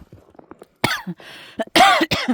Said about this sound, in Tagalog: yung ubo ko hindi talaga mawala-wala